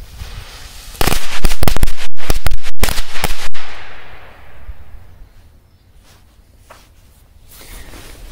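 A rapid machine-gun firecracker string bursts in a dense, loud crackling volley for a couple of seconds, then fades into quiet outdoor ambience.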